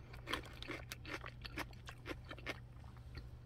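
Crisp, wet crunching of a firm pickled radish from a fried chicken meal being chewed up close, with repeated bites in an irregular rhythm over a low steady hum.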